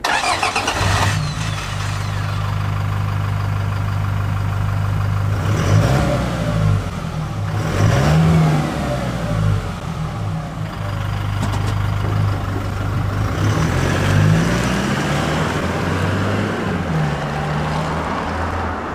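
Ganador aftermarket muffler on a Toyota Hilux GUN125 pickup at low speed, a steady deep drone with a few mild throttle swells, heard alone with no voices.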